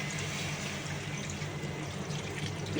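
Water poured into a pot of potato, pumpkin and pointed gourd vegetable curry, a steady soft splashing stream at moderate distance with no talking.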